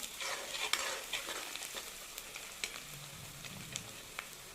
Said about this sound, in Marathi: आपल्याला ते छान तळून घ्यायचं आहे